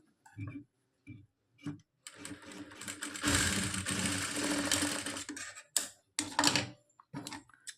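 A sewing machine stitches a double colour knot, first with a few separate clicks, then in a steady close whirring run of several seconds. Short bursts of mechanical ticking follow, with no talk.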